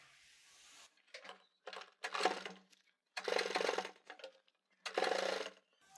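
A sewing machine fitted with a single right-hand foot stitches piping onto a kurti neckline, running in several short, fairly quiet bursts separated by pauses.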